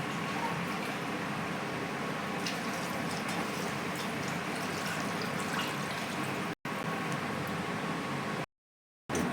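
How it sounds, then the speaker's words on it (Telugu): Water pours steadily into a pot of fish curry as a continuous, close hiss-like stream of liquid that fills the pot, with two short breaks in the sound. "ఈ ముక్కలు మునిగేంత వరకు వాటర్ని యాడ్ చేస్తున్నాను"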